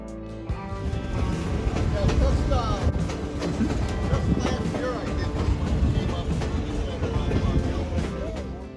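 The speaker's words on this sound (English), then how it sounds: "The train is located in Clarksdale, Arizona, and it takes you through the Verde Canyon." Excursion train running through the Verde Canyon out of Clarkdale, Arizona, a steady loud rumble with rhythmic clatter of rail cars throughout, heard from on board with some background voices.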